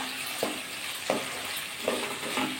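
Potatoes sizzle in a pan with spices on low heat, a soft steady frying hiss broken by three or four scraping stir strokes at even intervals.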